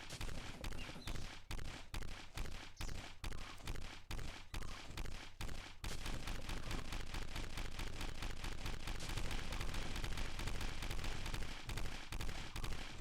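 Gunfire in a video game: rapid, evenly spaced shots in a steady rhythm, giving way to a dense, continuous barrage of overlapping fire, loud and close throughout.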